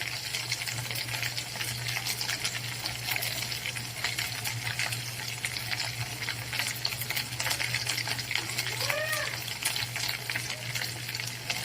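Chicken masala spices frying and being stirred in a hot pan for chicken dum biryani, with a steady, even sizzle and occasional scraping of the spoon, close and continuous with no talk.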